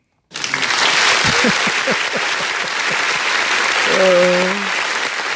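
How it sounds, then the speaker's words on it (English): A canned applause sound effect triggered from a button on a talk show, bursting in abruptly after silence and holding as a steady crowd clapping, with a short tonal sound near the end and voices faintly mixed in. "where's my applause button?"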